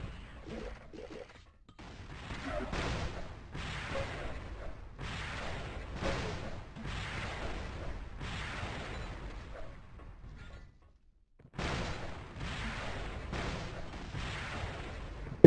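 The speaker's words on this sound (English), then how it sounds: "We do the machine gun." Rapid bursts of machine gun fire in the arena shooter Xonotic during a competitive showmatch, loud repeated volleys with a short pause near the middle before the shooting resumes.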